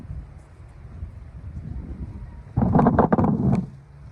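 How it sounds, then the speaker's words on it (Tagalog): Strong wind buffeting a microphone outdoors while a kite is flown, a low steady rumble that swells into louder, rougher gusts toward the end. "Lakas ng hangin."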